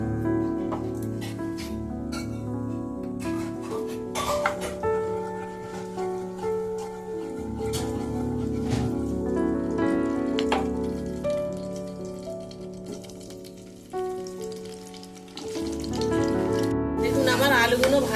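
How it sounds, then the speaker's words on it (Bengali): Potato pieces lightly frying in heated oil in a wok, a steady soft crackling sizzle with sharper pops, continuous and close throughout. "তেলটা গরম হোক আমি এই আলুগুলো হালকা ভেজে নেবো"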